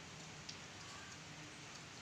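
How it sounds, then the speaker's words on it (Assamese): Light drizzling rain after hot weather makes a soft, steady patter, faint and even throughout with no voices. "এতিয়া অৱশ্যে ইমান জোৰকৈ দিয়া নাই কিনকিনিয়া বৰষুণ"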